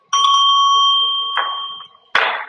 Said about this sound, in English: I'm gonna hit the bell.